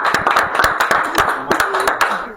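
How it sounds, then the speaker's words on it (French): A small group claps briefly, an uneven patter of hands close by that continues steadily throughout. "Est-ce qu'on peut applaudir quand même?"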